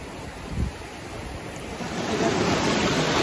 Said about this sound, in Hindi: यहां से पानी फ्लो हो रहा है और पानी का फ्लो बहुत ज्यादा है